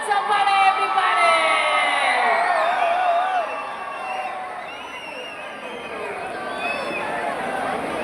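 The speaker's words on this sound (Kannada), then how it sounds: "ಬರ್ಲಿ ಜೋರಾದ ಚಪ್ಪಾಳೆ ಎವ್ರಿಬಡಿ" Audience cheering and applauding for a singer as he is welcomed onstage at the Gaganachukki waterfall festival. A loud, dense crowd roar with voices over it eases off midway and then holds at a steady, lower level.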